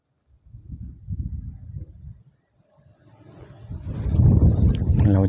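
Strong wind gusting over a freshwater fishing spot while line fishing, a broad rumbling roar that builds and swells loudly toward the end, with buffeting against the microphone.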